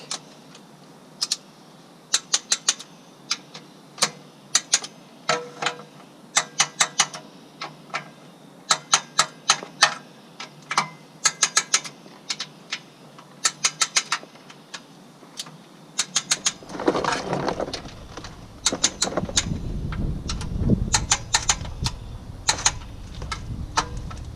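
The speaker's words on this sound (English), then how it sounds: "So now I'm going to go around the perimeter to make sure they're all torqued to spec." A torque wrench clicks as it tightens the transmission pan bolts on a Duramax Allison transmission. Crisp clicks come in quick clusters around the pan, and a rougher rustling, shuffling noise takes over near the end.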